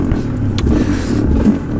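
An Aprilia RS 125 Extrema motorcycle engine runs loud and close with a rough, steady roar that swells slightly as the revs rise near the middle and end.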